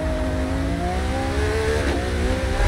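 A race car engine in Forza Motorsport (2023) drives a wet track, a loud, steady, high-revving drone with rising harmonic pitch throughout and a brief tire or shift noise near the end.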